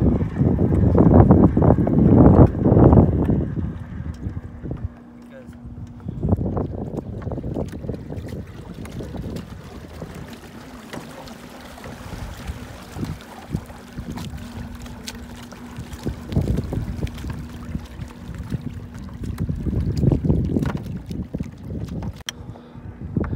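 A Feelfree kayak with an Overdrive pedal drive moves across the water, heard as a steady wash of water and strong wind noise buffeting the microphone, loudest at the start and the end, with no talking.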